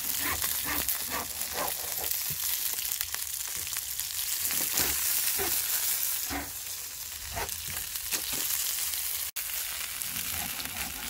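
Sausages fry on a camping stove for a campfire breakfast, with a continuous close sizzle and spitting fat and occasional scraping of a pan, and no voices.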